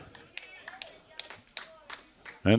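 A single loud, sharp burst of hand clapping rings out at a men's fours lawn bowls carnival after a bowl is played, following a stretch of quieter background voices and small taps.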